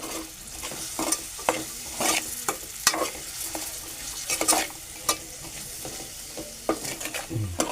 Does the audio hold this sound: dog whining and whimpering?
no